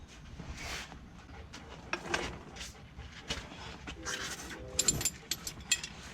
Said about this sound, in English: Just go ahead and do it with a wrench. A wrench and socket.